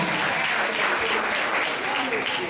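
Audience applause at a kindergarten move-up ceremony, a dense, steady burst of clapping from a large crowd, loud and continuous with no pauses.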